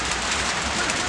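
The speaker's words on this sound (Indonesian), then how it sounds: "Hujan menturun." Rain falls steadily during an outdoor football match, a dense even hiss of drops on surfaces, loud and continuous with no voices over it.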